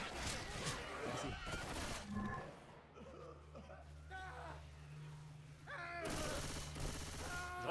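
Shotgun gunfire in Left 4 Dead 2, loud bursts of shots at the start and again near the end, with quieter game noise between and people talking over it.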